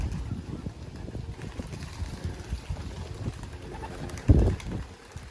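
Young racing pigeons coo softly in a loft, low murmuring calls running throughout with one louder, closer burst near the end, over faint wind-like background noise.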